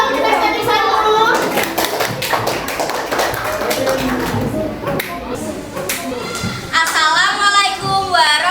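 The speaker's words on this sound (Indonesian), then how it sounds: "Beri tepuk tangan untuk kinestetik 1." Schoolchildren in a classroom clap in bursts for a group, sharp claps and taps mixed with children's voices and shuffling, with chatter rising over the clapping toward the end.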